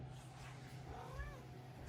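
A pet cat in a tiny home gives a faint, short meow, heard quietly over a low steady background hum.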